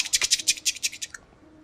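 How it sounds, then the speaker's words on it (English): Footsteps in a Spider-Man video game: a quick run of about eight crisp, evenly spaced steps, close and clear, ending abruptly into quiet. "As if he couldn't hear the sound of footsteps."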